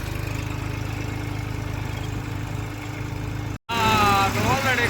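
Several tractors idle together in a farm field with a steady, low, pulsing engine rumble; after a brief cut, a voice speaks over the continuing engine.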